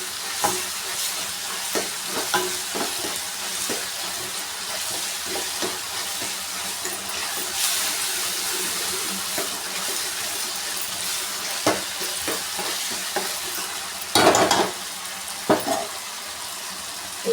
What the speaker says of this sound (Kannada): ಟೊಮೊಟೊ ಈರುಳ್ಳಿ ಎಲ್ಲ ಸಾಫ್ಟ್ ಆಗ್ತಾ ಇದೆ. ಚೆನ್ನಾಗಿ ಫ್ರೈ ಮಾಡ್ಕೊಬೇಕು.